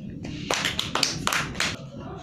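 Children clap their hands in a classroom counting lesson, several sharp uneven claps in a short burst, close and loud, mixed with speaking voices.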